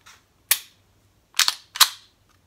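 A pistol's trigger reset gives a sharp, close mechanical click, then a quick double click and one more crisp click, all crisp and isolated against near silence.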